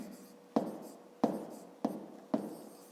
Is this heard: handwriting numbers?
yes